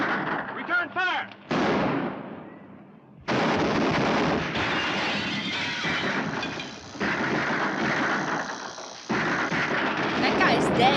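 Gunfire from the 1954 film Suddenly: loud bursts of shots and blasts fill most of the stretch, with a horse whinny near the start and shouted voices mixed in.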